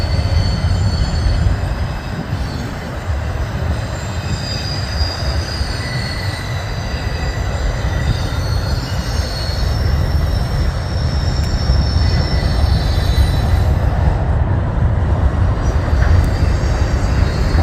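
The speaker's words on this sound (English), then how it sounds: "So he's been down there waiting for these 2 trains to pass through" Freight trains roll steadily past at close range, wheels squealing in long high screeches over a continuous low rumble of cars and rails.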